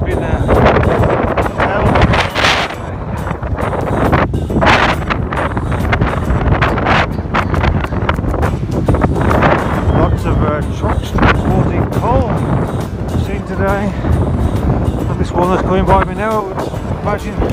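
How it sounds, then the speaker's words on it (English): Strong wind buffets the microphone in heavy, uneven gusts on the road to Issyk Kul, Kyrgyzstan, while a cyclist talks over the roar. "Extremely windy today"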